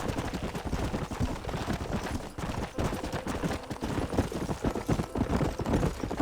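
Rapid, steady clip-clop of horse hooves while riding in the Western video game Red Dead Redemption, a dense continuous patter of thuds with no speech.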